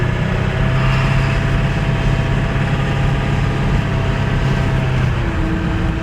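A 1999 Ford F350 pickup with a 7.3L PowerStroke diesel drones steadily while driving, a loud, continuous low engine rumble heard from inside the cab with no talking.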